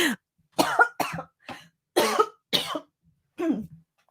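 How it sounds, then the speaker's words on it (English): Seven sharp coughs in a row, close and loud, separated by short silent pauses. "I didn't mean to cough in your ears"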